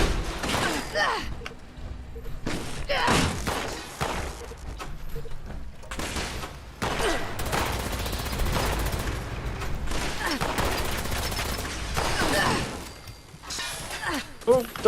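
Gunfire in the online game Fallout 76, a dense run of shots and bursts in irregular volleys, some near and loud, others further off, with a player's voice talking over the action.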